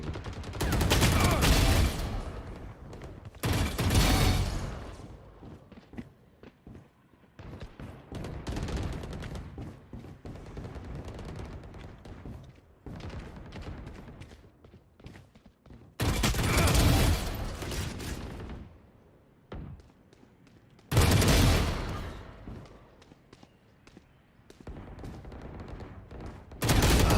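Gunfire in a ranked online shooter match, repeated loud bursts of automatic fire coming in clusters separated by quieter stretches with softer shots and mechanical clicks.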